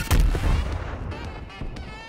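A Swiss K31 sniper rifle fires in the video game Call of Duty Black Ops Cold War: one loud, close shot with a booming low-end punch, followed by a rumbling tail and a softer echo.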